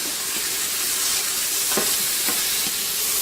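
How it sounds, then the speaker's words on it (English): Mushrooms sautéing in bacon grease, a loud, broad hissing sizzle that runs steadily, with a couple of soft utensil knocks and no talking. "So I'm sauteing mushrooms."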